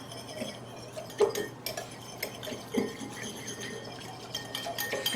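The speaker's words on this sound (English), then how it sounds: "then whisk it up" A whisk scrapes and clinks irregularly against a container as starter culture is whisked into sterile milk for yogurt, faint and close, with a few sharper taps standing out.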